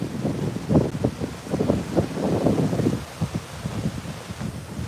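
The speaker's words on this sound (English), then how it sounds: "It's really very breezy today." Breezy outdoor wind by open water with whitecaps, gusting and buffeting the microphone in uneven surges, with leaves rustling steadily underneath throughout; no one speaks.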